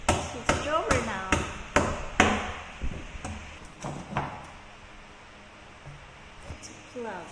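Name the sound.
hammering a plug into an IKEA chest of drawers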